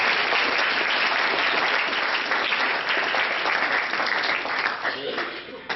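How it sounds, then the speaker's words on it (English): Sustained audience applause at a senior speech event, dense and loud clapping filling the whole stretch without a break, easing slightly toward the end. "Another round of applause for the parents."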